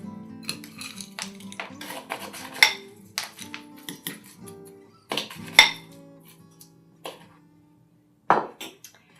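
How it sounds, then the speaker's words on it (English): Crushed ice spooned into a cocktail glass over orange juice, sounding as a string of close clinks and glassy rattles with scattered knocks, one heavier clatter near the end, with no voices. "And then top with crushed ice."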